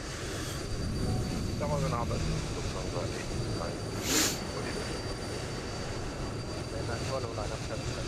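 A Lufthansa Airbus A320 inbound from Zurich passes at Frankfurt in Microsoft Flight Simulator 2020, a steady broadband jet roar that holds at a moderate level for several seconds, with a brief brighter swell midway.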